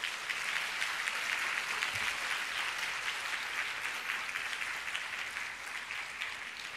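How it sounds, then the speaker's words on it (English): Graduation ceremony audience applauds its lecturers, a steady, dense wash of clapping from a large hall crowd, heard at moderate distance and sustained throughout without a break. "Please give them a round of applause as well."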